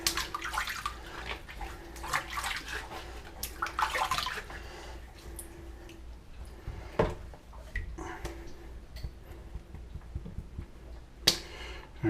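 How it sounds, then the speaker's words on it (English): Water running and splashing as saddle soap is rinsed off a white leather boot, an intermittent close rinse with scattered clicks and handling noises, fairly quiet. "And rinse it off."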